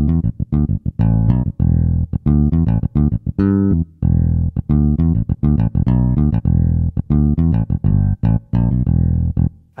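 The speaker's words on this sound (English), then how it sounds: "And there's also the sound of the electric bass." Electric bass voice on a Kawai CA79 or CA99 digital piano plays a busy, punchy line of short, deep notes with brief gaps, loud and close, with no talking.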